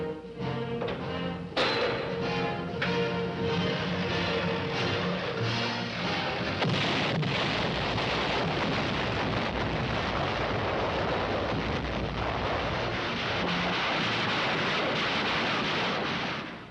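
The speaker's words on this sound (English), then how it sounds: "The naval barrage has cleared the way for them" A naval artillery barrage pounds the shore before the Marine landing at Incheon in the Korean War, heard as a dense, continuous roar of heavy booms and rumbling blasts that builds and stays loud throughout.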